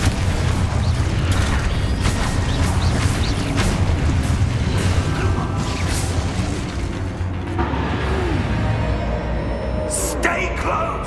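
An Expulso blasting spell goes off in the Hogwarts Legacy video game, a booming burst over a dense, rumbling bed of game ambience and mechanical creaks that continues steadily throughout.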